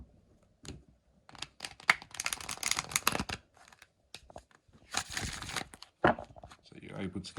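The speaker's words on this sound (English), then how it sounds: "So you're able to get a nice, good riffle shuffle on it." An oracle card deck is riffle shuffled close by, its crisp ripping and riffling bursts separated by short pauses, with some faint handling rustles.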